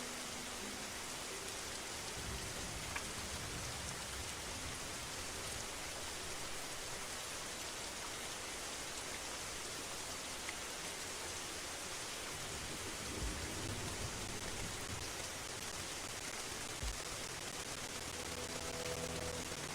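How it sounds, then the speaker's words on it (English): Steady, dense rain pours in Turtle WoW, a thick continuous hiss with low rumbles of thunder rolling underneath, carrying on evenly with no voices. "We did a dance and the rains came."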